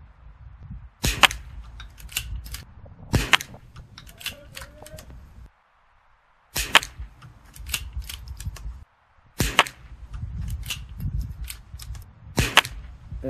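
A .22LR rifle fired at 200 yards with Lapua super long range ammunition: five sharp, separate cracks spaced a few seconds apart, fairly close and crisp against quiet background rumble, with no talking between shots.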